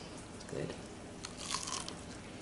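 Someone bites into crunchy fried cornbread, giving a couple of faint, brief crunches close up over a quiet hiss, with no other sound nearby.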